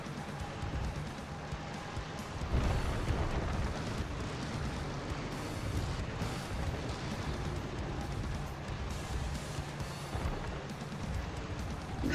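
Tank in the World War II strategy game Call to Arms: Gates of Hell on the Eastern Front firing at a wooden shack, a loud booming blast and crash amid continuous rumbling battle noise of engines and distant fire.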